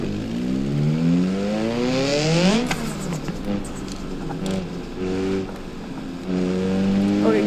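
A car in BeamNG.drive accelerates hard during a police chase, its engine pitch climbing through rising revs, dropping at a gear change and climbing again, loud and close with no talk.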